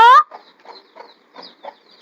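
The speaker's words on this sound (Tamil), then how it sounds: "கொக்கோ உள்ள வருது பாரு." A chicken clucks in a series of soft, short, close bursts right after a loud brief squawk-like call at the start, in an otherwise quiet setting.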